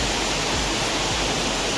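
A waterfall at Shri Malanggad roars as a steady, dense rush of falling water, close and continuous with no voices.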